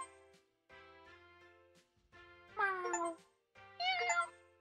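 Cartoon cat meows from the video game Cats Hidden in Paris, several short bright mews in separate bursts over a soft musical background, with no talking.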